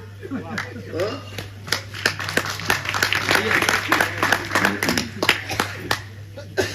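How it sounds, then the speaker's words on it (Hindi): An audience at a Hindi comic poetry gathering claps heartily, uneven, overlapping hand claps building and fading over several seconds, with voices talking over the clapping and a steady low electrical hum underneath. "मेरे साथ तो भाई साहब एक बार जोरदार ताली वाली बजा दो।"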